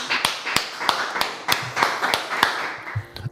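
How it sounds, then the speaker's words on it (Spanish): Rhythmic, evenly spaced loud hand claps welcome a guest on a talk show, close and distinct, with faint murmuring underneath. "nuestras palmas se disponen a recibir con un fuerte aplauso a uno de los pocos invitados"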